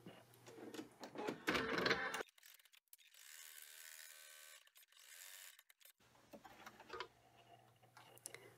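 An embroidery machine stitches a placement outline in the hoop, giving off a quiet, steady mechanical hum with soft rhythmic ticking between stretches of near silence and faint handling noise.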